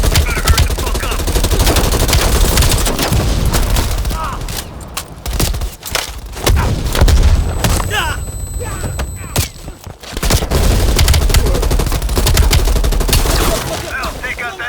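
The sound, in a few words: heavy machine gun fire in the video game Call of Duty Black Ops Cold War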